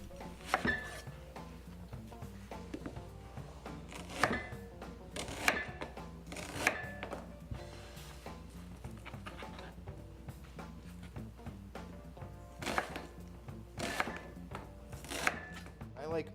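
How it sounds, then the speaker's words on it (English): A knife chops a red Spanish onion into thick pieces on a board for a salad. The cuts are sharp and uneven, with clustered knocks and brief pauses between them, close and fairly quiet. "So let's chop our onion up."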